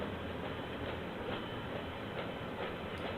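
Freight train rolling past in a rail yard, with grain hopper cars toward the end, a continuous rumbling roar with rhythmic wheel clicks over the rail joints, close and steady.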